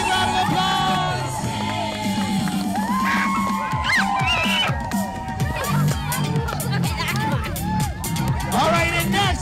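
Crowd cheering and whooping at a third-grade school field day, with children shouting over dense, continuous babble from start to finish.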